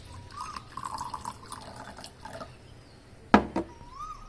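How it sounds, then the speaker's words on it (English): Water trickles and splashes into a glass for a few seconds, then two sharp clinks ring out near the end, fairly quiet and close. "Now take a glass and fill it with little water."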